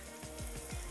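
Onions sautéing in a pan for pizza sauce give a steady, soft sizzle and crackle with a few faint pops, quiet and close, with no voices.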